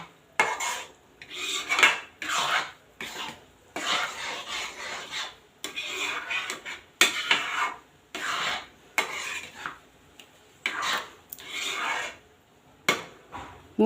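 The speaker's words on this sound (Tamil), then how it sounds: "பக்கத்துலேயே இருந்து கிண்டி கிண்டி விடுங்க" Milagu kulambu pepper curry stirred in a pot: a series of close, distinct scraping and rasping strokes of a spoon against the pot bottom in irregular bursts, with quiet gaps and no talking.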